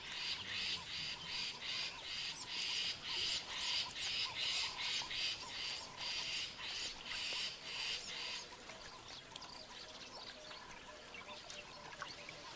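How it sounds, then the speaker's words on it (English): Hundreds of thousands of quelea finches gather in the Kalahari, where a dense flock chatters and squawks in rapid pulsing bursts that stay loud and constant, then thin into a softer scattered twittering near the end. "Plentiful water and a superabundance of insects draw hundreds of thousands of quelea finches to the Kalahari."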